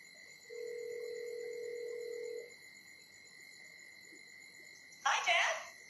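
An Apple Watch places a cellular phone call inside the Steve Jobs Theater at the 2017 Apple launch event. A single steady ringing tone sounds for about two seconds, followed by a short burst of louder sound near the end.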